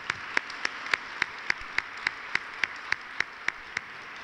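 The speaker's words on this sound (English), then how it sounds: "So give yourselves a round of applause," Applause from an audience at a government housing speech, heard as faint, evenly spaced single claps in a steady slow rhythm, about one every third of a second.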